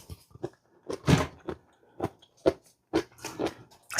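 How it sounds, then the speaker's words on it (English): Close-up crunching as someone chews food while eating homemade chili, with separate crisp bites and chews coming in an irregular rhythm, loud and near with quiet gaps between. "I'm sorry if I'm crunching in y'all ear"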